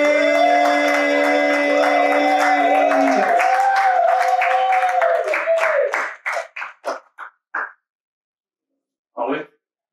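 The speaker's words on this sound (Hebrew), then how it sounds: "מחיאות כפיים, גבירותיי ורבותיי, לציפי" An audience applauds a guest in a studio, the clapping and cheering swelling over a bright musical chord, then thinning into a few scattered claps, one last clap coming alone after a pause.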